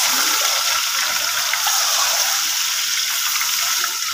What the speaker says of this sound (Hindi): अच्छी तरह इसको भून लेते हैं ताकि इसका कलर चेंज हो जाए